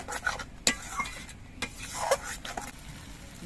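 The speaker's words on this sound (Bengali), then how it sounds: "এবার সব কিছু দিয়ে আবার কষিয়ে নেব" A spoon stirs and scrapes a pan of sizzling dahi katla fish curry with yogurt, cashews and a little sugar, giving close, irregular clinks and scrapes over a low frying hiss.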